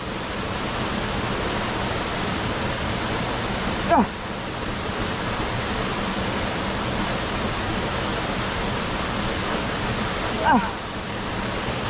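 A river flows steadily as a broadband rush while people bathe in cold water, with a couple of brief vocal exclamations rising above the constant water noise.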